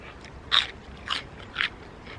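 Three crisp, close crunches in a row, like bites into a fresh, firm vegetable, spaced about half a second apart in a quiet setting.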